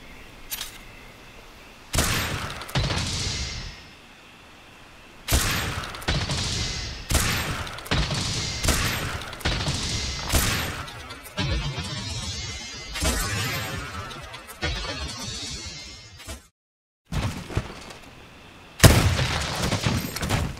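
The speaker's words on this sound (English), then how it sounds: "First off is the sniper build." Heavy bowgun sniper build firing in Monster Hunter World: Iceborne, a loud run of booming gunshots and thuds that comes in repeated bursts, with one brief silent gap near the end.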